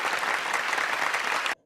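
A crowd applauding at a performance, dense steady clapping that holds loud and even for about a second and a half before stopping abruptly.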